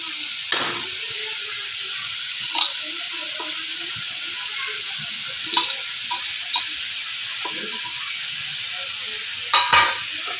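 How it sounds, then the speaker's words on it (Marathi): Potatoes and cowpea beans tossed into a hot frying pan for a spicy Indian vegetable dish, a steady sizzle with a few sharp clatters and stirring knocks, fairly close and without talk. "हे आलू आणि शेंगा यामध्ये टाकायच्या।"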